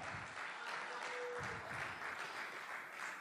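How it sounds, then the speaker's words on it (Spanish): Theatre audience at a trans gala in Alicante claps in a continuous, fairly distant wash of applause, soft and even throughout with no voices rising above it. "Bueno, aplaudí, aplaudí."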